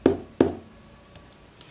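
Two sharp knocks in quick succession, then a faint third tap, are struck as a pattern on an Arduino-controlled secret-knock solenoid door lock. They sound close and isolated against a quiet background.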